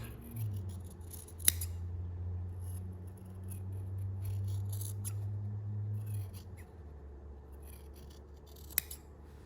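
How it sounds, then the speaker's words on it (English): Scissors cut fabric from mark to mark while sewing encased French seams, a close, steady run of blade snips and rasping slides with a couple of sharp clicks, no voice. "all I'm doing is I'm cutting from mark to mark"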